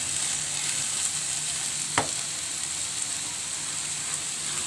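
Alugbati greens and egg frying in a pan make a continuous close sizzle with stirring, alone and steady, with one sharp click near the middle.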